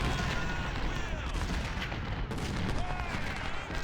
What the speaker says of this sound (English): Artillery's working overtime today, I can tell you that.